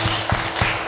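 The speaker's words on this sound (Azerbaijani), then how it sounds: "Alqışlayaq Kazımı." Audience applause on a comedy show stage, a brief burst of hand claps with a few distinct strong claps standing out in quick succession.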